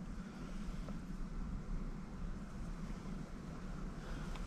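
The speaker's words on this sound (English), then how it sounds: "There's too much wind." Wind blows hard outdoors, a steady broadband rush with buffeting on the microphone that lasts the whole time, with no talk.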